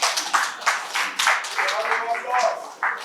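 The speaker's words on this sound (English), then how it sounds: "I think we deserve a clap." A crowd at a youth day gathering in Lagos breaks into applause, a dense patter of many hands clapping for a few seconds, fairly loud and close.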